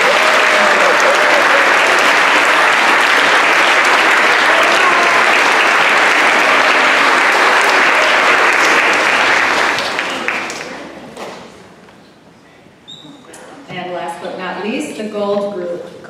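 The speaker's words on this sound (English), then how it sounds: "Please give them a round of applause." Loud audience applause at a K-8 school promotion ceremony, a dense sustained roar of clapping that fades out after about ten seconds, followed by people speaking.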